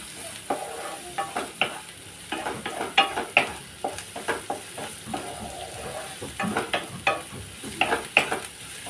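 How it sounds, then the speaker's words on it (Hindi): Garlic and onion sauté in a pan, sizzling steadily while a utensil stirs and scrapes in irregular bursts, fairly close with no talking. "इसे भी सौटे करेंगे लाइट पिंक होने तक"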